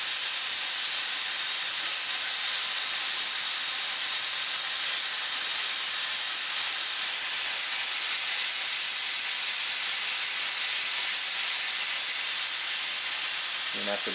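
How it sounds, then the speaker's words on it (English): Steam hisses loudly and continuously from a pressure canner on a stove after canning turnip greens, a steady broad rushing hiss releasing pressure without a break. "And then you can see all the steam coming out."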